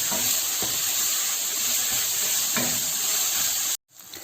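Chopped onion frying in hot oil for a chicken handi, a steady close sizzle with faint stirring scrapes, cutting off abruptly near the end.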